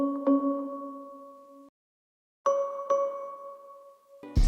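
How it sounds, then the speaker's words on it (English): A sampled bell rings in a trap-style trumpet loop beat, filling the gap after the horns: two sustained, bright tones with a sharp strike, a pause of near silence, then the bell returns with a second strike, drenched in long reverb. "this is where the bell fills out that empty space."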